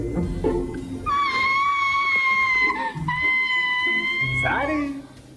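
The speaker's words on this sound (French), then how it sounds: "Elle crie." A woman's shrill, sustained scream in the 1990 Teenage Mutant Ninja Turtles film rings out for a few seconds with a brief break, framed by muffled voices and rustling before and after.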